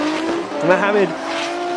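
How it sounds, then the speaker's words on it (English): BMW E36 drift car sliding sideways with its tires squealing in a rising, skidding screech over a steady engine note, loud and close, while a commentator talks over it. "Look at this from Sebastian Fontaine, absolutely clinical as he puts the back end of the E36 BMW to the wall"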